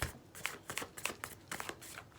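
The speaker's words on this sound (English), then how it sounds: "so you guys can see the shuffling part" Playing cards are shuffled for a card reading, soft quick riffles and snaps in several bursts, quiet and close, with no talking.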